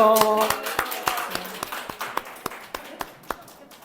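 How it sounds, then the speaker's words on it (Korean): A church congregation at a Sunday worship service claps in a steady, evenly spaced rhythm, crisp beats fading slightly over a few seconds after a brief voice at the start. "자, 박수 한 번 더 주시고."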